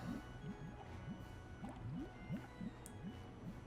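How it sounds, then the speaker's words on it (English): A weird bubbling noise from the Nancy Drew: The Haunted Carousel video game, a quick run of soft, rising blub-like pops repeating about every third of a second, faint over a low steady hum. "They're like weird bubbling noise."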